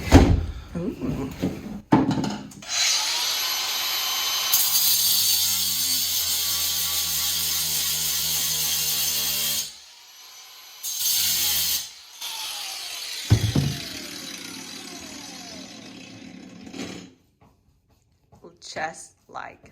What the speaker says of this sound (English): So I'm going to take the grinder and grind a notch.